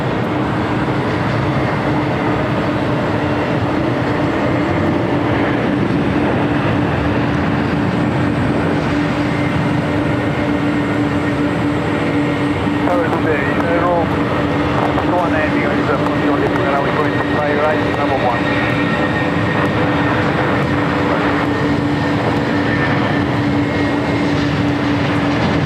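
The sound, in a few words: United Boeing 777 jet landing at LAX, arriving from Chicago O'Hare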